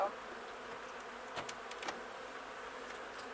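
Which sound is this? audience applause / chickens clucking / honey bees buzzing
honey bees buzzing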